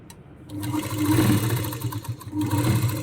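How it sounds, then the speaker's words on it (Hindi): A sewing machine runs a straight stitch on a Rajasthani kanchli blouse, its motor whirring up after a brief pause and holding a steady, close buzzing hum with faint rhythmic ticking. "तो यहाँ से हमने एक सीधी सिलाई चला दी है।"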